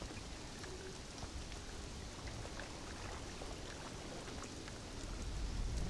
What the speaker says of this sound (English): it's raining and storming